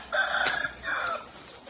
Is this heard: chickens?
yes